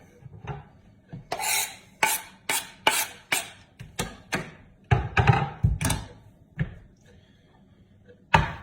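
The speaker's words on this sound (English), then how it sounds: "Now, what I'm gonna do next is clean off this board." A cutting board is scraped and cleared in a home kitchen while making elk chili, giving a series of close, sharp knocks and scrapes of a utensil against the board in an uneven rhythm, with short pauses between strokes.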